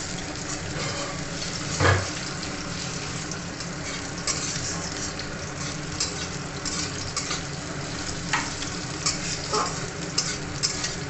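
Onion frying in a pan, a steady hissing sizzle heard up close with light stirring clinks and one soft knock, continuing without talk.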